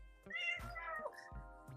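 A house cat meows close by, giving a couple of drawn-out, tonal cries over a faint low hum.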